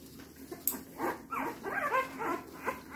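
Puppies being groomed whimper, yip and give small barks close up, a cluster of high, wavering cries in quick succession.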